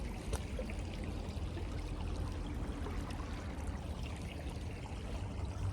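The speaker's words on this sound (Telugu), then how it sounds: "ఎంత బాగా నీళ్ళు పారుతూ ఉన్నాయో" Continuous rushing and gurgling of a flowing stream beside a cycling track in South Korea, steady and fairly close, with no voices.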